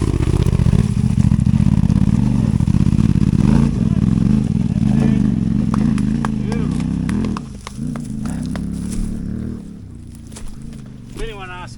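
Off-road motorcycles, a Yamaha Tenere 700 and CFmoto 450MT, rev hard as a rear tyre hooks up and spins on a steep dirt hill, the loud engine drone rising and falling continuously with voices talking over it.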